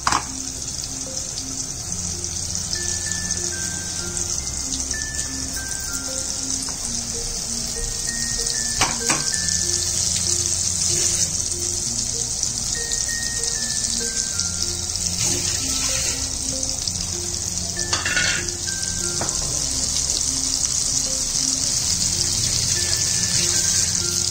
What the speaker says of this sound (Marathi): हे चांगलं मस्त भाजून घ्यायचं फ्राय करून